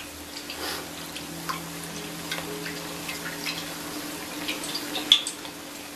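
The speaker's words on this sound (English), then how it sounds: "Drop it into the hot oil, and after that pour hot oil over to the bread like this." Bread pakora fries in hot oil while more hot oil is spooned over it, giving a faint, steady sizzle with small crackles and one sharper pop near the end.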